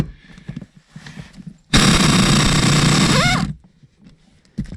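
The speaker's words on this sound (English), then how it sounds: "We'll pop these right out with the impact." Impact wrench on a T50 Torx seat bolt in an S550 Mustang interior, one loud, continuous buzzing hammer burst of about two seconds that ends in a short rising whine. Quieter shop sounds come before and after.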